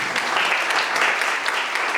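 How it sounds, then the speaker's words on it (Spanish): An audience applauds steadily at a university semester event, a dense, continuous wash of clapping from many hands with no talk over it. "Un aplauso, por favor."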